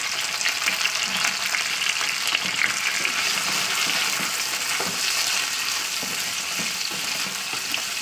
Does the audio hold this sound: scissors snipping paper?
no